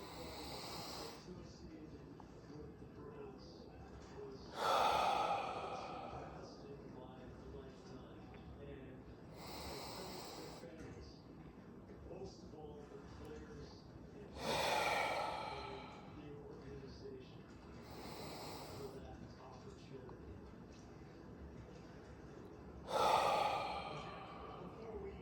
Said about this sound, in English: take 3 deep breaths in, hold at the top, long, audible exhale out before you return to normal breathing